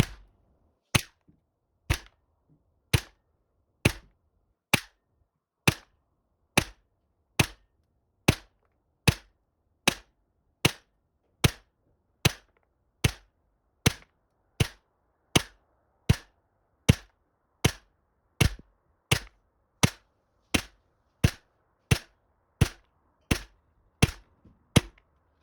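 A GHK M4 airsoft rifle running on green gas with 0.2 g BBs fires sharp single shots at a slow, steady pace, around thirty crisp cracks with silence between them.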